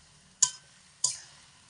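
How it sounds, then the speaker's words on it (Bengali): Two quick scraping stirs of fried potato pieces through mutton curry in a pan, each a short bright scrape that fades, close and distinct over a quiet background. "আলু দিয়ে একটু নাড়াচাড়া করে নেব।"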